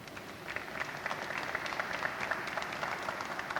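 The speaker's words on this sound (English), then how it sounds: "So make sure to give them a round of applause." An audience at a Delaware county event for the signing of a D-PACE agreement gives a round of applause, with steady, dense clapping that sounds somewhat distant and fairly quiet throughout.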